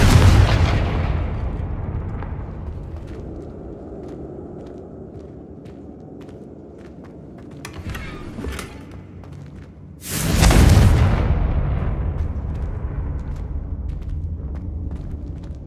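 Fiery Confringo blasts from the video game Hogwarts Legacy: a booming explosion opens and rumbles away, then a second loud burst erupts near the end and decays into a lingering roar.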